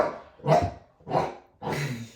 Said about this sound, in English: He's now barking at that.